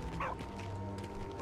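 A dog yips and barks briefly within the game Valiant Hearts, a couple of quick faint barks over a low hum of game sound, with no talking.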